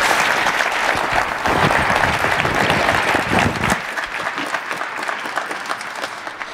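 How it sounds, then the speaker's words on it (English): A lecture audience applauds loudly and steadily for several seconds, dense clapping filling the room before easing slightly toward the end. "please join me for another round of applause for Mr. Fishman"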